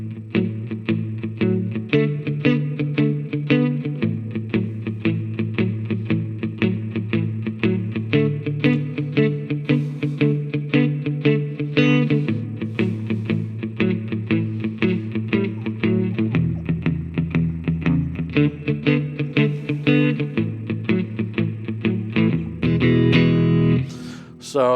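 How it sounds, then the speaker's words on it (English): Electric guitar playing a 12-bar blues shuffle with a steady, loping rhythm and chord changes, loud and continuous with no talking. "So that's kind of like a 12-bar blues shuffle style."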